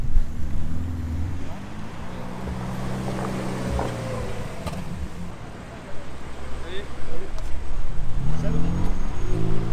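A black Ferrari SF90 Spider drives past at Top Marques Monaco, its engine rising to a loud, close roar that fades away and then swells again toward the end.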